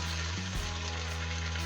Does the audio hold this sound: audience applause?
no